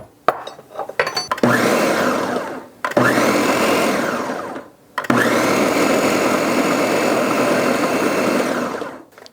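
A food processor pulses a crumbly homemade snack mixture with added milk in three long, loud whirring bursts separated by short pauses, after a few brief clattering noises at the start.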